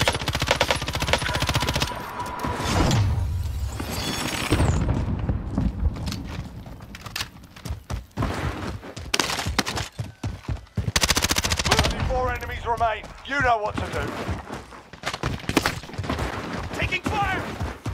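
Repeated bursts of automatic and single gunfire in a first-person shooter video game, loud and close, interleaved with someone talking over the shots.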